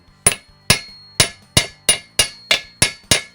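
A seal is hammered into a Willys Jeep Dana 25 axle housing through a chunk of steel, eight sharp metallic strikes in a steady, even rhythm, loud and close with short ringing decay.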